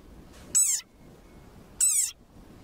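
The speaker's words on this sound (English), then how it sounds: "this is a sonorous war cry of a very angry frog." A frog gives two loud, squeaky squeals about a second apart, each a short wavering shriek like a rubber dog toy, against quiet background.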